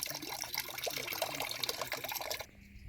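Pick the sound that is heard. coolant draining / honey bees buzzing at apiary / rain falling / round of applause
coolant draining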